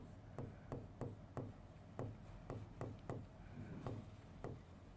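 A hand writes quickly on a board or paper during a botany lesson, giving a rhythmic run of short, scratchy strokes and taps, close and clear, with no talking.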